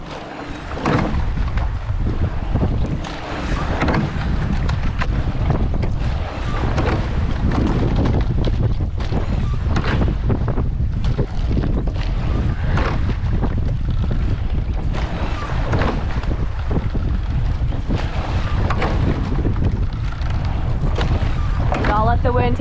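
Heavy, constant wind buffets an outdoor microphone with loud low rumble and gusting bursts throughout, with faint fragments of voices under the roar.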